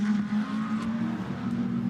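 A customer-built Audi GT2 race car runs at Monza during a Fanatec GT2 Series race, giving a steady, loud engine drone with a strong low hum that holds throughout, nearby and unbroken.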